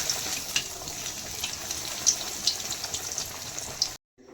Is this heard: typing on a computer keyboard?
no